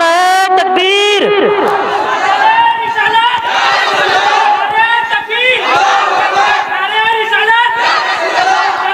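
Large crowd at a religious gathering loudly answering the takbir call in unison, a dense wall of shouting voices that rises and repeats in waves for several seconds.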